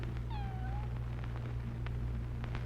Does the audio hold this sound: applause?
no